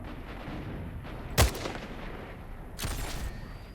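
Sniper rifle fire in S.T.A.L.K.E.R. Shadow of Chernobyl: one sharp, loud shot cracks out over a low ambient hum, followed a little later by a duller, longer burst of noise.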